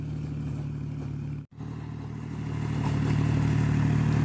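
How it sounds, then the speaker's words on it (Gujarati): A tractor ploughing a farm field creeps slowly closer, its steady low engine drone growing louder over the last seconds, broken by a momentary dropout early on; no one speaks. "તો જો ધીરે ધીરે ટ્રેક્ટર આવે છે"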